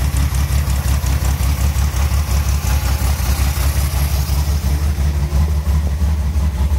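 A 1966 Corvair Model 500 sedan with factory air conditioning idles steadily, its low exhaust note pulsing evenly and close throughout, with no talking over it.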